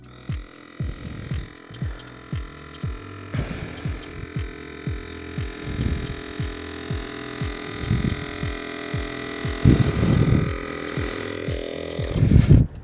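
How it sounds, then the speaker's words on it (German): An Aldi 4Smart cordless air pump compressor inflates a tyre to 2 bar, giving off a steady electric hum with a regular throbbing pulse that repeats through the whole stretch. "Jetzt sage ich, sie soll mal auf 2 Bar auffüllen."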